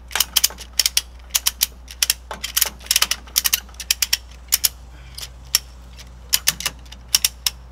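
A hand ratchet clicks in short irregular bursts while a strap is tightened to pull on the bumper of a 2019 Ram 1500 pickup truck, with crisp, close mechanical ticks over a low steady outdoor hum.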